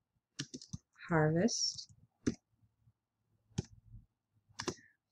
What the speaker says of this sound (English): So we are just going to type, and we are going to type garden